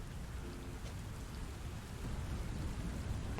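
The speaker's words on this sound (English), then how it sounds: "pardon the rain." Steady, fairly faint in-game rain from the video game Satisfactory, a continuous even hiss of falling drops with no voices over it.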